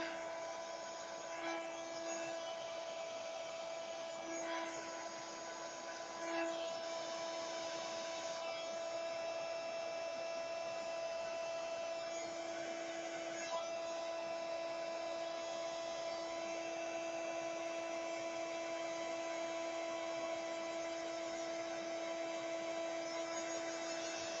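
Steady electric blower hums at an even, continuous drone with a strong tonal whine, pushing wet paint colour across a surface, with no talking over it.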